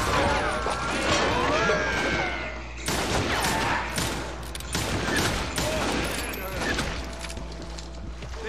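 Rapid bursts of gunfire in Call of Juarez crackle repeatedly over several seconds, loud and close, with brief gaps between volleys.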